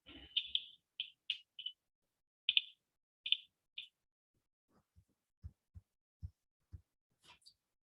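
Gamma ray absorption experiment with a radiation detector: sharp, irregularly spaced clicks, several clustered early then scattered lower thuds, fairly faint with no talking.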